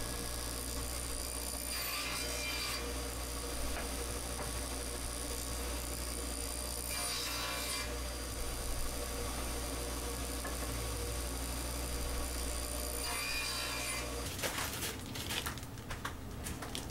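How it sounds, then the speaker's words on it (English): A table saw cutting shoulders on walnut rails for a rocking bassinet, a continuous loud motor drone with repeated rising passes as blade meets wood, then the motor winds down near the end. "the last thing I'll do with the table saw is to cut the shoulders on all the rails"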